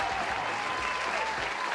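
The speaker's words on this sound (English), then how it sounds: "Claps all around for the R Army today." Dense, even applause from a crowd, continuous and fairly close for a couple of seconds with no voices.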